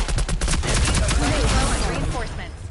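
Rapid automatic gunfire from the shooter game Rogue Company, a dense burst of repeated shots over about three seconds with some voice underneath.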